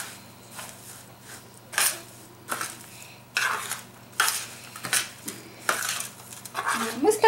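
A spoon stirs a granola mix of oats in a bowl, making repeated close scraping and clinking strokes in an uneven rhythm, with no talking.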